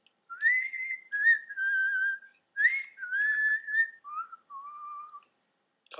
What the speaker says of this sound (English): I can try to whistle.